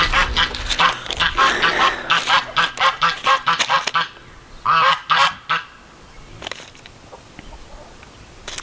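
A flock of geese honks noisily in a garden, a dense burst of overlapping calls for several seconds, then a pause and a few more honks before the yard quiets to faint background calls.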